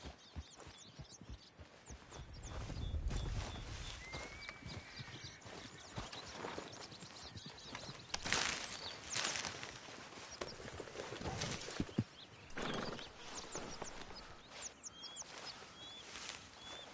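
Horse hooves clip-clopping at a steady gait in Red Dead Redemption 2, rhythmic and continuous over faint ambient birds and outdoor noise, moderately close.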